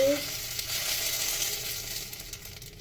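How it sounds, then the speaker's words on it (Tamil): Small appam batter sizzles softly in a pan, a steady, gentle frying hiss close by with faint scraping, no voices. "இன்றைக்கி குட்டி அப்பம் சுட போகிறோம்"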